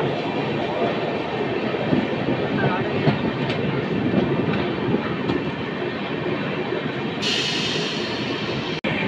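The Mumbai LTT–Puri Superfast Express rolls out of Nashik Road station at night, heard from on board as a steady loud rumble of wheels and carriage noise with faint clatter, and a brief higher hiss joining near the end.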